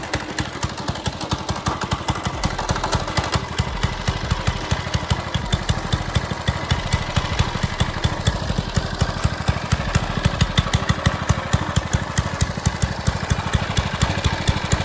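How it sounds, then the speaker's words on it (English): A Monster Moto 80cc dirt bike engine idles and runs steadily up close, a fast, even, rattling putter that holds loud and constant throughout with no talk. "that's a Monster Moto 80cc"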